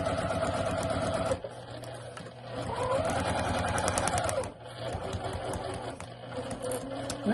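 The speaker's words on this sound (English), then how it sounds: "we've stitched the seam, back stitching in each of the little seam allowance areas" A sewing machine stitches a seam joining angled foundation-paper-pieced templates, its steady motor hum running in bursts with short pauses and a lighter backstitching patch midway, close and moderately loud.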